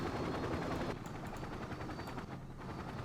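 Helicopter units in the real-time strategy game Act of Aggression give a continuous rotor-like drone mixed with rapid bursts of gunfire, loud at first and then dropping to a quieter rumble.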